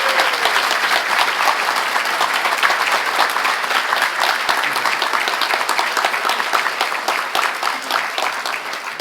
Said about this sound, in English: let's give Commissioner Kreidler a big Bellingham welcome round of applause